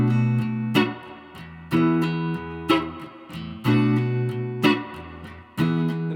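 Strummed acoustic guitar chords for a song, changing twice per bar in a steady rhythm, each strum ringing out clearly and close with no voice.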